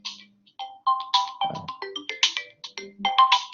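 A telephone ringtone plays during a lecture on computational mathematics and drones, a bright melodic electronic tune of quick, evenly spaced notes, fairly loud and alone with no talking.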